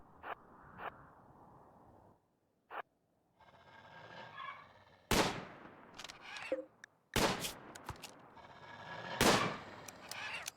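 Sharp gunshots ring out in the video game RimWorld as colonists fire at a manhunter animal, several loud cracks spaced irregularly over a low background hum, with no talk.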